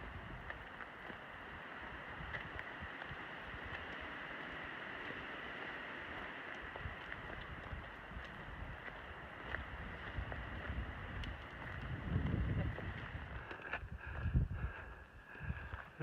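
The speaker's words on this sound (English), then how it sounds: "it's blowing like 20 miles an hour" Strong wind around 20 miles an hour buffeting the microphone outdoors on a Camino de Santiago walk, a continuous loud rushing roar with heavier low gusts near the end, no speech.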